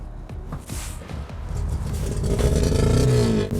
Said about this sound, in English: All right, let's start the engine first.